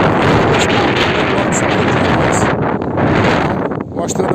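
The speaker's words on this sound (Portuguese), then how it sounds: "O vento tá dando aqui uma arrasadinha no gimbal" Strong wind buffets a camera gimbal outdoors, a loud continuous rumbling roar that eases slightly near the end.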